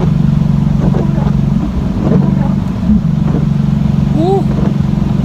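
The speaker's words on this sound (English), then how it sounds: "You can hear it backfiring a little bit." Nissan 370Z with its muffler deleted idles loudly with a steady low exhaust drone, broken by a few faint pops and crackles of backfire, while a voice talks over it near the end.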